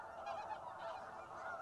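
Ross's geese call during a snow goose hunt over sheet water, a dense, continuous chorus of high honks from a large flock at some distance, steady and moderately faint.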